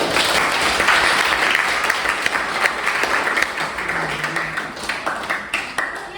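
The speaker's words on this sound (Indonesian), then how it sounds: "Kita berikan aplaus untuk" A university classroom of students breaks into sustained applause for a classmate after a microprocessor-development lecture, dense clapping filling the room and slowly thinning toward the end.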